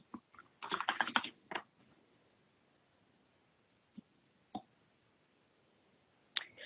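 Typing an ingredient name on a computer keyboard for recipe costing: a fast flurry of close keystrokes, then scattered single clicks separated by quiet gaps.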